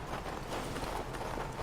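Horse hooves trot in the video game King's Bounty 2, a steady quiet clip-clop over a soft, continuous background wash.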